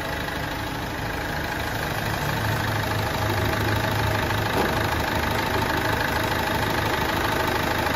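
A Ford Fiesta 1.4 diesel engine, suspected of burning oil, idling steadily and close by with a continuous rough, knocking rumble and no talk.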